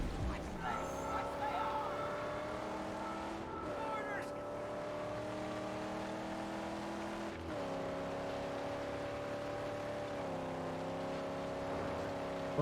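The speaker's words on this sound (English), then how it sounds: "those new engines, those certainly crank up the acceleration on this thing" A car engine in the Mad Max video game revs and accelerates, a steady loud drone with harmonic pitch rising and dipping through gear-like shifts, continuous throughout, with talk over it.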